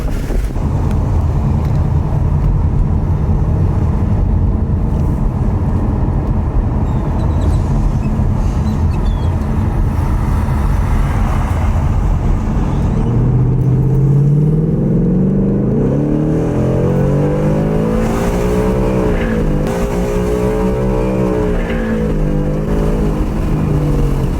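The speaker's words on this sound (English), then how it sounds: "it pulls pretty good for just an E85 tune" A 2018 Ford Mustang GT on an E85 tune accelerates hard, a loud V8 roar building and climbing steadily in pitch through the gears, heard close and continuous without speech.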